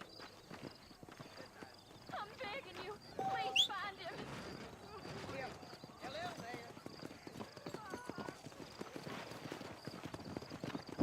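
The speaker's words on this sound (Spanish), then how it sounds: "Uy, viene volando el caballo." Horse hooves clip-clopping at a steady gallop in the Western video game Red Dead Redemption, rhythmic and continuous, with a brief whinny, under someone talking.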